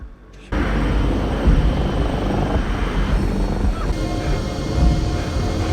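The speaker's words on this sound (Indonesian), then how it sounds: "Dibantu oleh Samuel, mereka melakukan pendaratan manual di sebuah tanah lapang di tengah hutan." A passenger plane makes a manual emergency landing in a forest clearing, a loud, dense roar of engine and rushing noise bursting in abruptly after a quiet moment and holding steady throughout.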